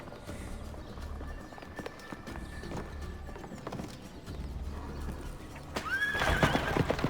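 A horse in the video game Assassin's Creed Revelations clops along with quiet, steady hoofbeats, then lets out a loud, rising whinny near the end over faint game ambience.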